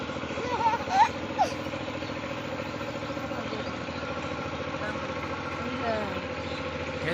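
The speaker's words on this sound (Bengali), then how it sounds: "এই যে পাওয়ার টিলার" A power tiller's engine runs steadily at an even idle-like chug, a continuous mid-pitched drone with brief voices over it.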